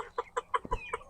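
Purebred chickens cluck in a homestead barnyard, a run of six or seven short, close clucks in quick rhythm with a low thump partway through.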